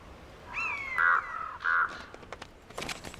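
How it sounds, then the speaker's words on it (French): Crows in the Siberian wilderness cawing after being disturbed by a hawk: a few harsh, drawn-out calls at moderate distance, followed by scattered clicks and rustles. "qui à son tour dérange les corbeaux"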